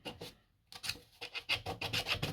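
Hand sanding of a Yamaha Ténéré 700 motorcycle part with coarse 80-grit sandpaper, heard as close, rough rasping strokes in an irregular back-and-forth rhythm after a short pause, with no voices.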